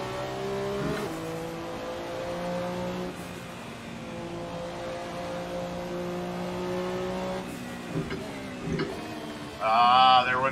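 Porsche 962 race car with a 5-liter flat-12 engine in Assetto Corsa on the 1967 Silverstone circuit, a loud, steady engine drone with harmonic revs rising and shifting through gears, a sharp burst near the end.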